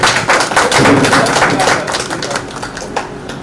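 Audience clapping to welcome an honoured guest at a religious recitation and yoga awareness gathering in Greater Noida, a dense, steady round of many hands close by that thins out toward the end.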